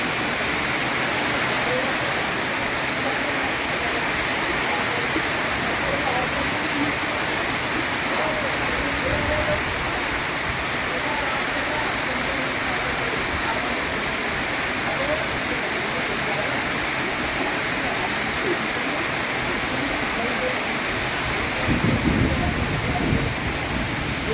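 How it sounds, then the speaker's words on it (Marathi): Heavy pre-monsoon downpour in Jalgaon district, a dense, constant loud hiss of rain falling on surfaces, unbroken throughout with a brief heavier thud near the end. "दुसऱ्या बाजूला जोरदार पाऊसही चालू आहे"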